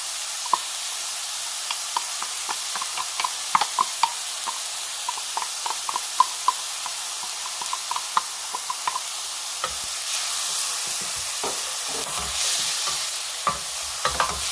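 One onion frying in a pan for gnocchi, giving a continuous close sizzle with frequent light taps and scrapes of stirring, and the hiss swelling briefly near the end.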